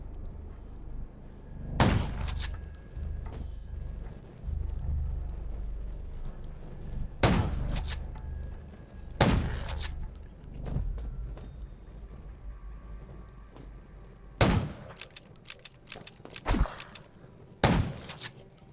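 Sharp gunshots ring out one at a time with pauses between them, some quick doubles, over a low rumbling background, in the zombie survival video game Undawn.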